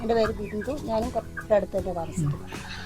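Several broiler chickens cluck and squawk close by on a poultry farm in a busy, irregular chatter, with low murmuring in the background.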